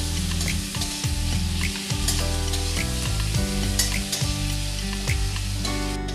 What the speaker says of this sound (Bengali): পেঁয়াজটা আমি লাল লাল করে